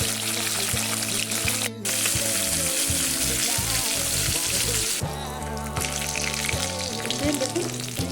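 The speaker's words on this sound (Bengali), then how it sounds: "দেখুন মাছটা আমার দুপাশে ভালো করে ভাজা হয়ে গেছে।" A fish head fries in hot oil, with a loud, dense, continuous sizzle and crackle and a short break partway through. The frying noise grows a little steadier and more even toward the end.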